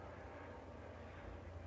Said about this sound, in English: That's a police helicopter